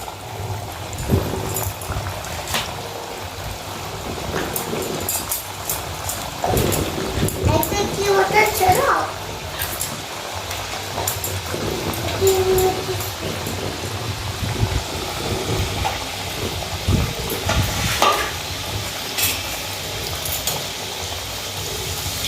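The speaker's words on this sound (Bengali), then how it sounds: "তেল গরম হয়ে গেছে তেলের মধ্যে একটি একটি করে দিয়ে দিচ্ছে" Semolina purkiya pieces fry one at a time in hot white oil in a village kitchen, giving a steady low sizzle and bubbling beneath continuous talking.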